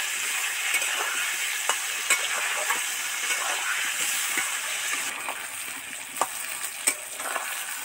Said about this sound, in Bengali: দিয়ে ভালো করে নেড়ে চেড়ে মিশিয়ে দেব